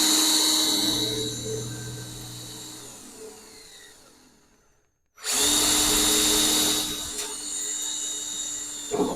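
A power drill driving screws to mount a sheet metal part on a large sheet metal tool box, running loud and steady, winding down to silence midway, then a second sustained run starting abruptly and holding to the end.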